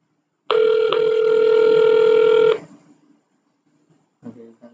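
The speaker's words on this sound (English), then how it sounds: "It dialed this extension and we got the call" An Asterisk phone system plays a steady electronic dialing tone for about two seconds as it calls an extension, followed by a brief faint ring-like tone near the end.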